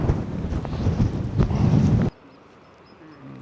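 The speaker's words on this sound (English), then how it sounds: "at least it's a nice cool wind" A cool wind gusts across the microphone on a high cliff path on Lord Howe Island, loud, rough buffeting that cuts off abruptly after about two seconds into near quiet.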